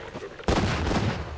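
A grenade in the game Garry's Mod explodes partway through: a sudden broadband blast that cuts in after a quieter stretch of gunfire-like background, then leaves a loud, rumbling roar that stays dense to the end.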